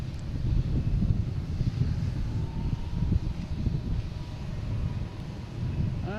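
A United airliner passes at Boston Logan airport, a steady broad jet engine roar holding for several seconds with some wind rumble on the microphone, no voices present.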